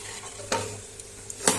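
A home-cooked eggplant, potato and tomato curry is stirred in a frying pan, with a steady sizzle broken by a few scraping strokes of the spoon.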